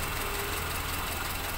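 A carbureted Toyota Kijang engine runs close by with a steady, unbroken mechanical drone and faint knocking vibration, holding a constant level with no distinct rev rise.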